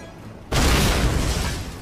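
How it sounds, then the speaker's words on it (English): A grenade explodes in the World War II shooter Call of Duty aboard the battleship Tirpitz. A quiet lull gives way to a sudden loud boom that rumbles on and slowly fades. "Got a grenade in there."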